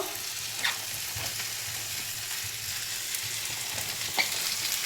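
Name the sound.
eggplant added to frying beans in a pan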